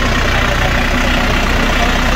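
A tractor engine idles steadily at close range, a continuous low rumble with no pauses or voices, during a demonstration of the tractor rolling forward and backward without the brake.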